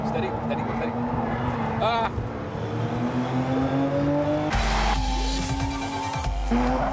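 A sports car engine drones and shifts pitch while being driven through a chicane, with someone speaking over it from inside the cabin; a heavier rumble and rising engine note take over in the second half.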